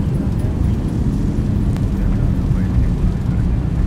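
A Boeing 737 in the X-Plane 12 flight simulator landing with its thrust reversers deployed during the rollout, producing a loud, steady, broadband engine roar that holds constant throughout, with no voices.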